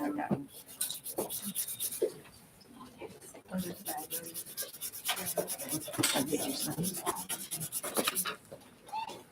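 A nail file rasps back and forth against a fingernail in quick, close strokes of rough scraping, repeated in bursts, with light voices and breathing in between.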